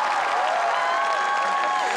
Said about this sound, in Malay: Kita ingin dengarkan tepukan yang paling gemuruh